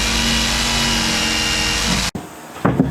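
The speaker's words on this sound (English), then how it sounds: "skill saw it out." Circular saw cutting poplar wood during a bedroom build, a steady loud whine for about two seconds that stops abruptly, followed by faint knocks.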